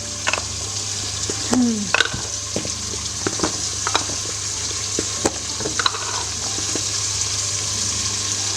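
Spices going into a hot pan for a gobi gosht curry, with a steady frying sizzle, stirring scrapes and clinks, and a low background hum throughout.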